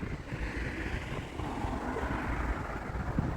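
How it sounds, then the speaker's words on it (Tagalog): Wind gusting outdoors beside a gardening store near a bus stop, a continuous broad rushing roar buffeting the microphone with no voices. "mahangin dito sa labas"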